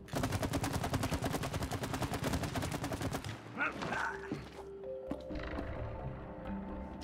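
Rapid automatic gunfire from the co-op video game It Takes Two rattles loudly for about three seconds, then gives way to softer in-game effects and tones.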